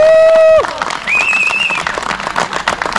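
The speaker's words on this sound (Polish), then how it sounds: "Wielkie brawa dla nich!" Loud crowd applause for a girls' handball team fills an indoor sports hall, breaking out after a short whistle-like tone and sustaining as steady clapping.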